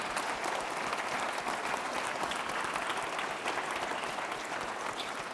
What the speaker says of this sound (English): could we please have a big round of applause to Nicholas Anderson at DFDS for organising